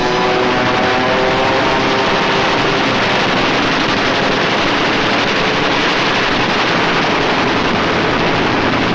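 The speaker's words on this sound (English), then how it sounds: "Now it was for the Germans to learn the terrors of strafing." Wartime aircraft strafe the retreating German army on the Russian front: a loud, continuous roar of aircraft engines mixed with rapid machine-gun fire, with no speech.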